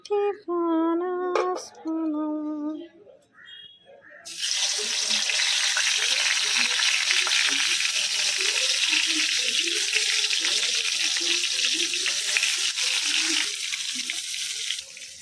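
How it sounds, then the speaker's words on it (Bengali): Eggplant slices frying in a pan in a home kitchen, a loud, steady sizzle that starts abruptly after a few seconds of music and stays close and continuous to the end. "বেগুন ভাজা চলছে"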